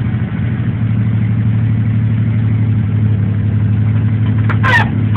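An old Willys Rural F-75 engine idling in a steady, close, low rumbling throb that stays even throughout, with a brief faint squeak near the end.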